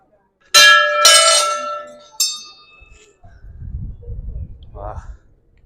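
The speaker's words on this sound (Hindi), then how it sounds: "कितनी घंटी लग रही है भाई, कितनी बजानी पड़ेगी" Temple bells at Bhairav Baba Mandir near Kedarnath ring in two loud metallic strikes and a third fainter one, each ringing out and decaying, followed by low wind rumble and a brief voice.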